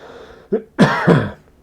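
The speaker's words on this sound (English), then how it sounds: "I'm just going to cough, excuse me." A person coughs twice in quick succession, close and fairly loud, after a short throat-clearing sound; no talking.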